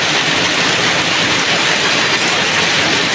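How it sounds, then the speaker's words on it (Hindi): Heavy rain pours steadily in a dense, continuous hiss, loud and close, with no voices. "क्या बारिश हो रही है"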